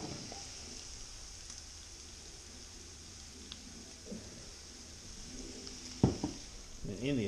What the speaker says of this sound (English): Frozen vegetables and sausage.